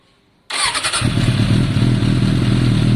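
A Suzuki Bandit 600 motorcycle engine cranks with no choke and catches abruptly, then settles into a loud, steady, close idle that runs on alone.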